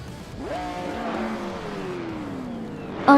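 Race cars, including a 1996 Toyota Sardine C8R GT1 from Scuderia Veloce, speed around Brno in a racing video game, engines droning and shifting pitch as a car passes close, with a sharp rising whine near the end.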